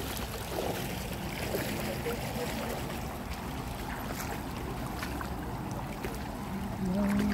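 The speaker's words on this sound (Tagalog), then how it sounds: "Lakas ng current dito." Strong river current rushing past an eroding riverbank, a steady broadband wash of moving water with wind-like noise, continuous and fairly close, no voices.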